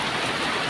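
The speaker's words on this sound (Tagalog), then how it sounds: "Mga kaloy, grabe kusuga sa ulan." Heavy morning rain pours onto garden plants, a dense steady hiss of drops hitting leaves and surfaces, close and loud with no voices.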